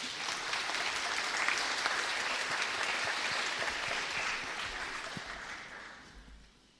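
Audience applause for a schoolboy at an Armistice commemoration, dense sustained clapping from a crowd that holds steady for several seconds and then fades away.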